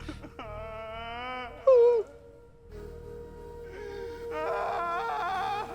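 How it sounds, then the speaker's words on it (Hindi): A woman cries and wails in long, drawn-out moaning sobs, rising and falling in pitch, with a brief louder outburst partway through and renewed wailing toward the end, close and fairly loud. "अभी किसी औरत के रोने की आवाज सुनाई दे रही है हमको"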